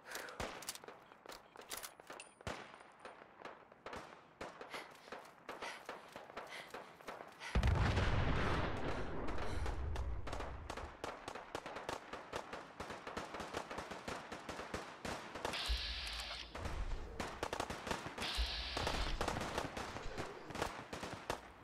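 Rapid, dense gunfire from a Fallout 4 survival battle against a zombie horde, with steady bursts throughout and a heavier, louder barrage kicking in partway, punctuated by sharper high-pitched blasts near the end.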